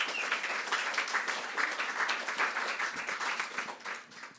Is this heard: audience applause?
yes